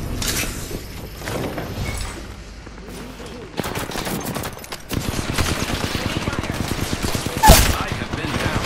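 Rapid bursts of automatic gunfire in Apex Legends rattle close and loud, with a sharper, heavier shot near the end.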